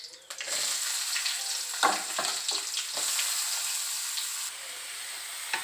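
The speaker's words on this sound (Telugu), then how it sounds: "ఉల్లిగడ్డ బాగా ఫ్రై అయ్యిద్దామండి," Onions frying in hot oil with curry leaves and seasoning seeds in a kadai, a continuous close sizzle punctuated by several sharp clinks and scrapes of stirring, with no talk.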